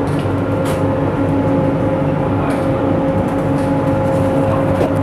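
A Kolkata metro train pulls into Jessore Road station with a loud, continuous rumbling roar and a faint steady whine, plus a few light clanks on top.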